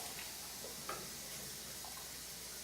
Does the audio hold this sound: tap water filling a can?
yes